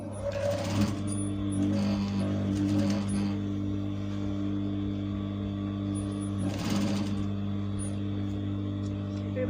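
A sewing machine stitches the seams of an African print tote bag, giving a steady, fairly quiet mechanical hum throughout with brief louder bursts near the start and middle, and a voice talking over it.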